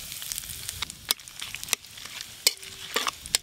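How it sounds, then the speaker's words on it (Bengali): Bay leaf, dried chilli and asafoetida crackling in hot mustard oil, a close, lively sizzle broken by sharp pops and spits, with no voices. "ফোড়নে তেজপাতা শুকনো লঙ্কা দেব, 5 ফোড়ন"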